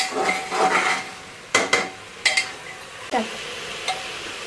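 A spoon stirs and mixes spices such as coriander powder and garam masala in a cooking pot. Close scraping and clinking comes in a few sharp bursts over a soft background sizzle.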